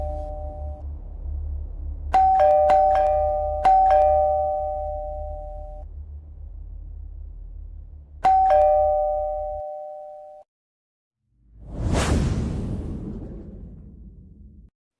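A doorbell rings late at night in a cartoon horror story: several sharp, bright electronic chimes spaced over about ten seconds, each ringing out and fading, followed after a pause by a brief rushing whoosh.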